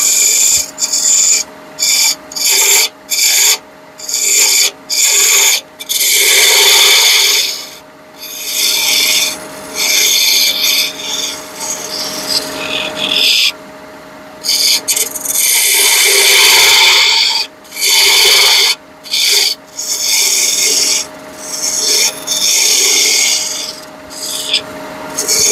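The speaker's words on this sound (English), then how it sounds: "So, take my spindle gouge and just" A spindle gouge rolls a bead on a piece of wood spinning on a lathe, giving a steady raspy scraping hiss broken by short pauses as the tool is lifted and repositioned, close and fairly loud with no talking.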